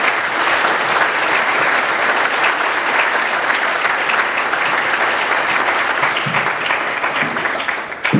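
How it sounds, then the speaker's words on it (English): An audience at a policy luncheon gives a sustained round of applause for the Kentucky agriculture commissioner, a dense, even wash of clapping that holds steady for several seconds before tapering at the end. "Let's give our commissioner a round of applause."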